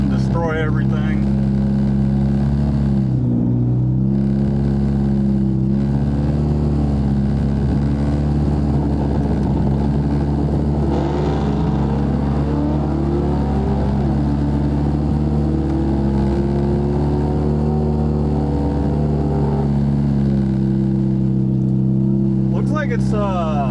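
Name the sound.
Chevrolet Cruze 1.8 turbo car pulling up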